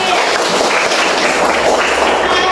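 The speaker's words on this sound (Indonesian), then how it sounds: "Tepuk tangan untuk Alif" Schoolchildren in a classroom clap for a fellow student, a loud, close, continuous patter of many small hands with no pause across the short burst.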